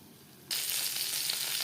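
Eggplant slices for begun bhaja fry in hot oil in a pan over a high-to-medium gas flame, with a loud, steady sizzle that bursts in suddenly after a quiet moment and continues.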